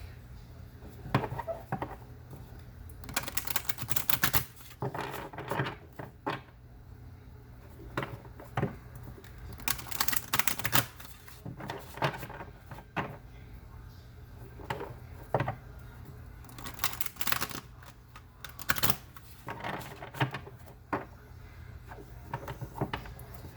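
Oracle cards rustle and riffle in several quick bursts of shuffling, with brief pauses between, close and fairly quiet.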